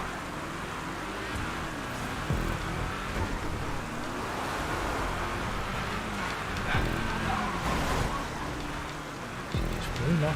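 Steady rain in a GTA 5 race with cars on a wet track, broadband hiss running continuously under engine rumble and a few louder swells.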